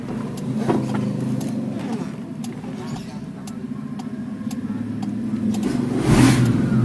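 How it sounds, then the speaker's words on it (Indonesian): A 1990 Suzuki Forsa hatchback engine starting and running in neutral with rough low rumble and revving, a louder rev near the end, with faint ticking and some voices in the background. "Nah, sekarang kita coba start mesinnya ya."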